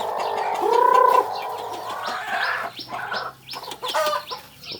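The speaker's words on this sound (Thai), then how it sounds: "อันนี้เป็นไก่จีนยูนาน ลูกๆไก่จีนยูนานอยู่ทั้งนั้นลย" Yunnan black chicken chicks peep and chirp near at hand in a busy cluster of short, overlapping calls, with a louder sustained call early on and no talk.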